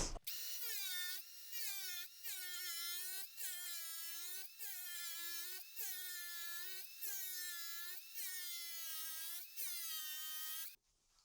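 A power tool with a diamond blade cuts repeated slots into 12 x 24 porcelain shower tile, about ten short, whining cuts in a steady rhythm with brief pauses between them, loud and close, with no talk.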